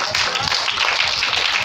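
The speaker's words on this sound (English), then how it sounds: "Someone clap your hands and say thank you." A church congregation claps in a dense, continuous wash of many hands, loud and steady with no single voice standing out.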